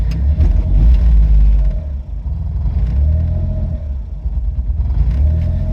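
An Autozam AZ-1 kei sports car running a Keisport ECU idles rough and lumpy with a low, steady engine rumble that wavers slightly, heard close and without speech.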